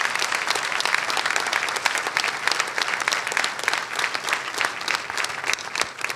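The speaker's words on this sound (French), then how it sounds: "Vous commencez déjà par applaudir." Audience applause fills the room, a dense, steady clapping that stays loud throughout with no voices over it.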